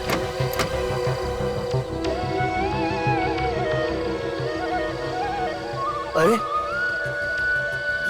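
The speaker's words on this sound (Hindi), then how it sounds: "ये तो बांसुरी की आवाज है।" A bamboo flute melody drifts in wavering, breathy phrases over a low continuous rumble in a forest at night, with a short spoken exclamation partway through.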